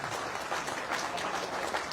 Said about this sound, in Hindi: अब लगा है मुझे कि हरियाणवी स्टाइल में तालियां बज रही हैं